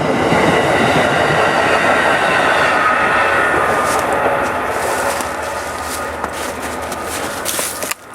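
An Amtrak train passing on railroad tracks beside a used auto parts yard in Wallingford, Connecticut, loud and close, with steady wheel rumble, clickety-clack and high squeals that fade slightly toward the end.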